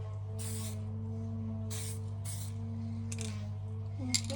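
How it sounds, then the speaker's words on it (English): A spray paint rattle can hisses in several short close bursts while painting a Harley Benton DIY guitar kit, with a steady low hum between sprays. "sorry about spraying my hand"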